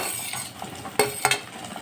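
Chopped tomatoes tumble into a hot pan with softened onion for a drumstick-leaf dal, followed by a spoon stirring and scraping with a light sizzle and a few sharp clinks of metal against the pan.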